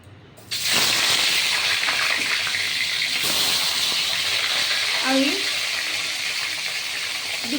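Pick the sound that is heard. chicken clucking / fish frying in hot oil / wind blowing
fish frying in hot oil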